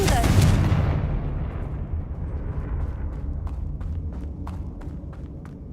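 A Confringo spell blast in a video game erupts as a loud, booming burst at the start, then a rumbling tail fades slowly while faint sharp ticks sound over it.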